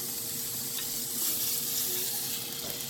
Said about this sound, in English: I will stir fry it on high heat.